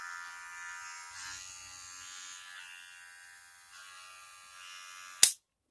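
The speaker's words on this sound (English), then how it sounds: "Another downside to this clipper is when you turn it on, it's so loud" An electric hair clipper, a Magic Clip, buzzes steadily and loudly up close, with a brief low rumble partway through, then shuts off with a sharp click.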